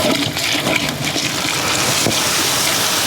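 Steady rushing water pours continuously into barley corn mash for a few seconds, a dense hiss with no talking.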